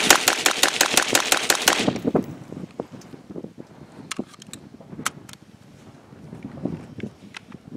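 An AR-15 rifle fires ammunition reloaded on a Dillon RL550B press, a fast string of about a dozen sharp, loud shots opening the clip, then scattered outdoor clatter and a few distant pops.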